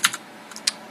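Clicky Cherry Blue switches on a Razer BlackWidow mechanical keyboard give a few sharp, close key presses, two quick clicks then a softer one and a final crisp click, with no talking.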